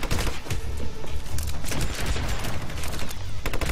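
Heavy continuous gunfire in the Hitman: Absolution video game, rapid overlapping shots and bursts, loud and close throughout with no pauses.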